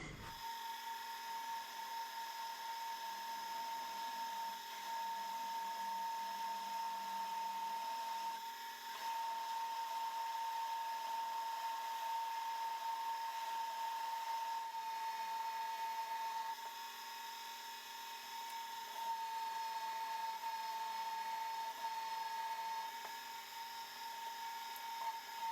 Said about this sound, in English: That's an 11/16 drill.